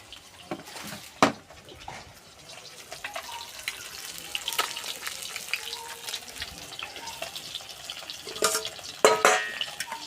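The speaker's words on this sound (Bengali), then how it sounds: "আর দুটো মাছ ভেজে নিচ্ছি।" Two fish frying in a pan, a steady crackling sizzle with occasional sharper pops and spatters, moderately close with no talking.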